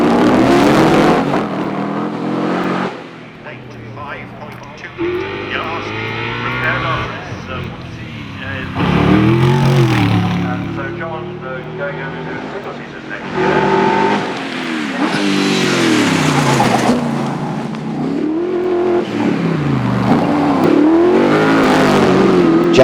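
A 5.2-litre Westfield SE8 race car on a hillclimb run, its engine repeatedly revving and dropping through gear changes, loud and close beneath continuous commentary.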